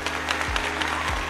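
Steady applause plays as a sound effect on an Italian radio show, a dense, even patter of clapping that lasts the whole short moment, with two low thumps under it.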